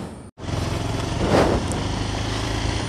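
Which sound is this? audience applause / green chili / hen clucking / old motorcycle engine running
old motorcycle engine running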